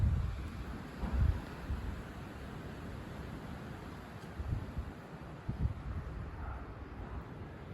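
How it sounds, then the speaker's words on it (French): Strong north-east bise wind roars steadily outdoors, a dense low rumble with occasional heavier gusts and buffeting on the microphone, continuous and fairly close, no voices. "On l'entend gronder. Une bise de nord-est."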